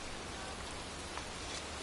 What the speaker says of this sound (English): standing in a cemetery in pouring rain